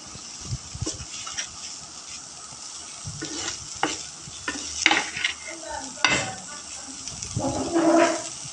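Spiced noodles sizzle in a pan while being stirred, with scraping strokes and utensil clinks against the metal. The sound is close and irregular, and a voice speaks faintly now and then.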